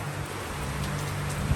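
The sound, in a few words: rain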